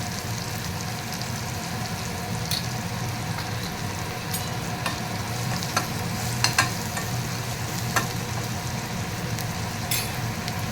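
Garlic, curry leaves and other ingredients for a besan curry fry in a pan, a constant close sizzle broken by occasional light clicks and crackles from stirring, with no voice.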